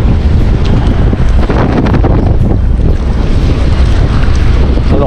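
Loud, constant wind buffeting the microphone, a heavy low rumble with gusty roar throughout and no voices.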